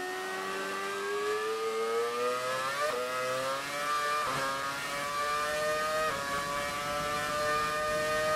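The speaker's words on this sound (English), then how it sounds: "this V8 era car sounds really good" A V8 Brawn BGP 2009 Formula 1 car engine in the racing game F1 2018 screams at high revs, its pitch climbing through the gears with short dips at each upshift, loud and steady throughout.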